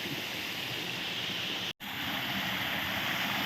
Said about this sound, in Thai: นี่นะครับน้ำตก